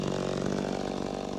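A ported McCulloch chainsaw with an opened-up exhaust runs close and loud at a steady high rev, its buzzing two-stroke roar continuous with no talking.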